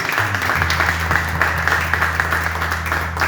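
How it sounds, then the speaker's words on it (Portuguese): Congregation applauding during a church service, continuous broad clapping over a steady low organ or keyboard drone, moderately loud and without voices on top. "Vamos aplaudir o Senhor"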